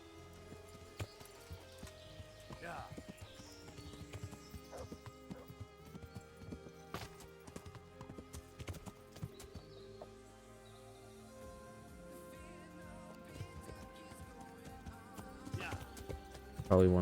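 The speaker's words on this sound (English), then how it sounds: "Come on, horse, move faster." Horse hooves clip-clop steadily at a trot in a video game, layered over game music and ambient effects with an occasional whinny, while a player talks over it.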